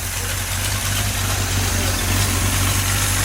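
A freshly installed engine in a 1966 Chevy truck idling steadily, a loud, constant low rumble with a smooth vibrating hum and no break in the sound.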